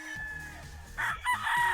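A rooster crows in short harmonic bursts among penned breeding fowl, the calls rising loud near the end over a steady low farmyard hum, with no talk.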